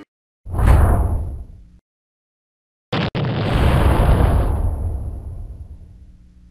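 An explosion blast in an animated story: a whooshing burst that fades, a brief silence, then a sharp crack and a large, long, rumbling blast that slowly trails off.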